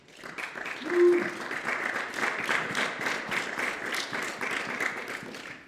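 Church congregation applauding at a French-language service, a steady wash of clapping and cheering that holds at an even level throughout, with a brief sung or voiced tone near the start.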